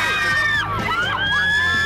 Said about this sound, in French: Cris aigus, filles en transe.